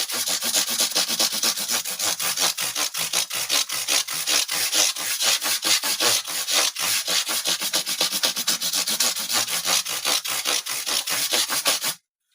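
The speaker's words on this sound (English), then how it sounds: "I'll take my 400 grit, fold it in half like this" Guitar frets on a Sire being sanded with folded 400 grit sandpaper, a steady rapid back-and-forth rubbing scrape, close and continuous for about twelve seconds before stopping abruptly.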